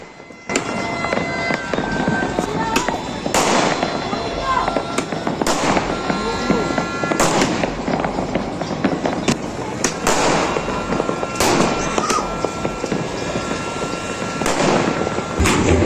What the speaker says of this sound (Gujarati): અમે બી ફટાકડા કરી દીધું હતું.